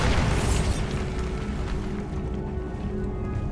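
A Bombarda spell explosion in the video game Hogwarts Legacy, a loud, dense boom that rumbles steadily and then slowly fades over a few seconds.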